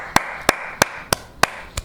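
Six sharp, evenly spaced hand claps, close and crisp, at a steady moderate pace with no talking.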